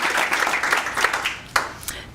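Applause for students at a Student of the Month breakfast thins out, with a scattered patter that fades and ends in a few separate, sharper final claps.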